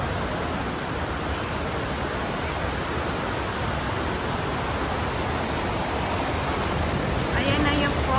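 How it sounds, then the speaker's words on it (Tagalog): A waterfall on a forest hiking trail, a steady, loud broadband roar of falling water from start to end, with faint voices in the background. "Ayan na yung falls."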